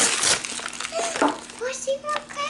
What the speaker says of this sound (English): I'm gonna go ahead and see if I can rip this open